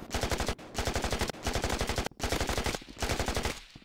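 Rapid automatic gunfire in the multiplayer shooter game Rec Room, four long loud bursts of evenly spaced shots with brief gaps between them, close and alone without talk.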